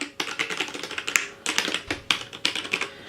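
Fingers type on the keys of a Logitech G810 Orion Spectrum keyboard, making quick bursts of crisp clacking in uneven rhythm with short pauses, loud and close.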